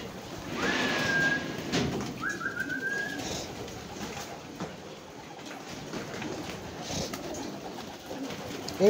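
Blue bar homing pigeons coo softly within a large flock of around 400 birds, with faint low calls over a steady background murmur and occasional scrapes and knocks nearby.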